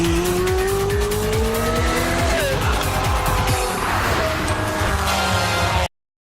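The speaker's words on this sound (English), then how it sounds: "The Pagani Zonda F, an automotive work of genius from the home of the supercar" A Pagani Zonda F supercar drives hard, its engine note climbing and shifting through gears with tire squeal, loud and close throughout before cutting off abruptly near the end.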